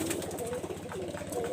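Pigeons of a pure-line breed coo softly in a rhythmic, throbbing pattern, several low rolling calls overlapping close by with no talk.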